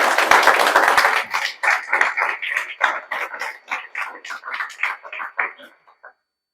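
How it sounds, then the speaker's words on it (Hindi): An audience applauds exam champions at a JEE Main results gathering: a lively burst of clapping that breaks into uneven, rhythmic rounds and gradually thins out to a few last claps before stopping. "उसके लिए जोरदार ताली बजा दीजिए।"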